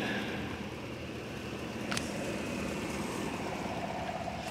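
A 2018 Chevrolet Suburban's 5.3-liter V8 idles with a steady low rumble, close and continuous, with a brief sharp click partway through.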